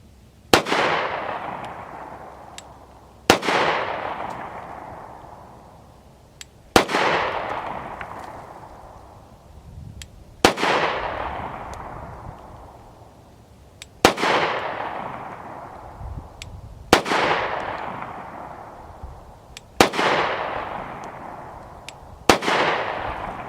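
A Colt Combat Commander 1911 pistol fires .45 ACP rounds outdoors, eight loud sharp shots spaced about three seconds apart, each followed by a long rolling echo that fades before the next.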